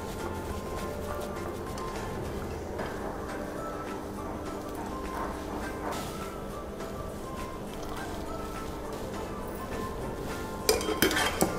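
Cooked rice is added and layered over horse gram chicken biryani in a pot, with steady scraping and clinking of a metal spoon against the vessel throughout and a few sharper clanks near the end.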